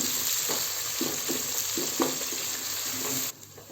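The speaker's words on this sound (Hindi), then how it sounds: "प्याज डालकर हम हल्की सी फ्राई कर रहे हैं।" Sliced onion fries in a pan for a mutton yakhni pulao, a continuous sizzle broken by rhythmic scraping stir strokes about every half second, close and fairly loud, before the sound drops away at the end.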